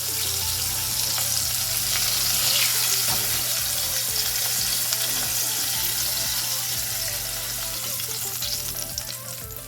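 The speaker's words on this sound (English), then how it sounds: "when I'm frying chicken" Steady, loud sizzling of chicken frying in hot oil, crackling continuously throughout with occasional sharper pops.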